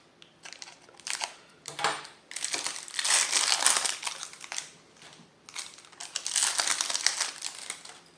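Pokémon card packs torn open by hand, their foil wrappers crinkling and crackling in bursts close by, with short pauses between.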